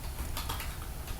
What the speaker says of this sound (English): I'm going to hit enter here, tab over twice